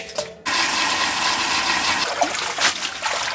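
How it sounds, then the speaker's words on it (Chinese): Vegetables are washed under a running kitchen tap: after a brief knock, water gushes in a steady, close splashing stream that continues throughout. "这个蔬菜一定要给它清洗干净。"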